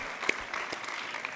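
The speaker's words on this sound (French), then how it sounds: "Merci, je pense qu'on peut vous applaudir tous les quatre." A panel audience claps politely at an official conference session, sparse individual claps at moderate distance over a little under a second and a half.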